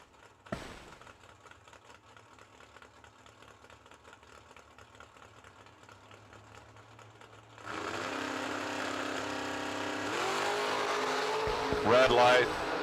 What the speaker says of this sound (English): Ryan Henry is in the Camaro.